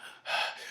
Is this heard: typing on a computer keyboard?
no